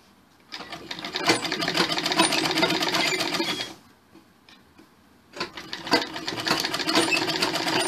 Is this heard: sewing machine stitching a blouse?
yes